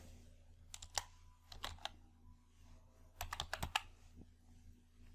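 Quiet computer keyboard typing comes in two short bursts of crisp key clicks over a low steady hum.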